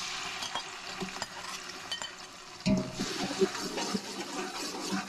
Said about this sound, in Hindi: और प्याज को थोड़ा मैं सौते करूँगी